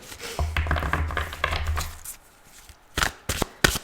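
Tarot cards being shuffled by hand, a close, crisp riffling flutter lasting about two seconds, followed after a short pause by a few sharp taps as the deck is squared.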